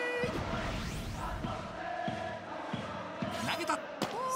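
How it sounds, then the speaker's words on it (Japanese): Stadium crowd in the baseball video game Power Pros 2022, at Yokohama Stadium during a game-tying chance: distant rhythmic cheering and chanting with drum-like beats, a commentator talking over it. "ひときわ大きな声援が聞こえます"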